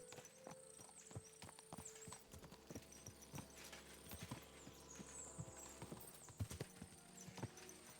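Horse hooves clip-clop at a steady riding rhythm in Kingdom Come Deliverance 2, set over a low hum and faint game ambience with no talking.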